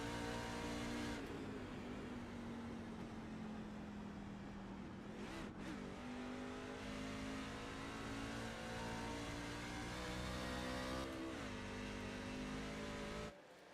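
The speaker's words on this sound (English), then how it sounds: "You hear David Husley shifting through the corners." An iRacing truck-series race at New Hampshire Motor Speedway, with loud, close engine drone running steadily throughout, its pitch dipping and climbing as the driver shifts through the corners, one sharp drop around midway and another near the end.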